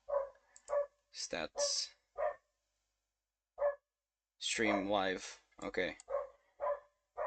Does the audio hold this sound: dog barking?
yes